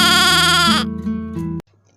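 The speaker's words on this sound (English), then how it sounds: "G for goat." A goat bleats with a harsh, wavering cry that lasts under a second. It is followed by a bright synthetic tone before the sound abruptly cuts off.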